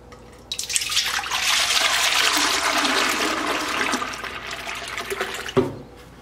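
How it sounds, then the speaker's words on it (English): Milk, eight quarts in all, pours into a large pot with a measuring guide as a steady, close rushing stream of liquid for about five seconds, then stops abruptly. No voices are heard. "how much milk I'm actually going to pour into here"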